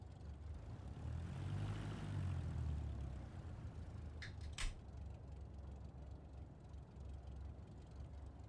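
A cargo airplane in a video game flies with a steady low engine drone that swells and then settles, alongside a couple of brief sharp clicks partway through and no talking.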